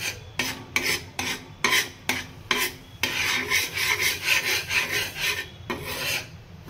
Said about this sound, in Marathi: थोडं मिक्स करून गुठळ्या वगैरे सगळ्याचं आल्या नाही पाहिजे म्हणून मी हे मिश्रण करून घेते